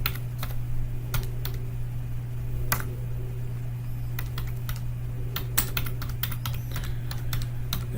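Fingers type on a computer keyboard at a quiet desk, with irregular clusters of crisp key clicks spaced by short pauses over a steady low hum.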